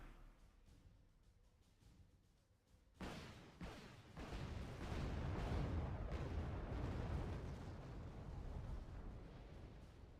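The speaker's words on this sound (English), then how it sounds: "The cheap MLRS artillery." MLRS rocket artillery firing in the wargame Wargame Red Dragon: after about three seconds of quiet low rumble, a sudden loud blast opens a dense run of booming, crackling explosions that rolls on steadily to the end.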